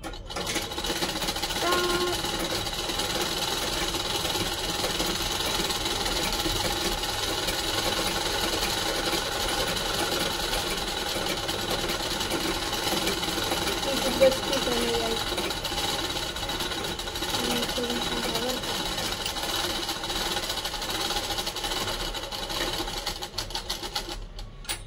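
A domestic sewing machine stitching a blouse, its steady mechanical whirr running continuously and fairly loud throughout, with a brief louder clack near the middle and no talk over it.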